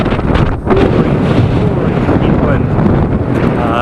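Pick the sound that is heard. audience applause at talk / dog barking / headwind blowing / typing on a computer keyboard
headwind blowing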